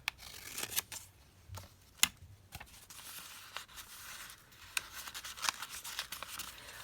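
Scissors snip through paper in quick, irregular cuts, each one a crisp little snap, with rustling and handling of the sheets in between, close and quiet.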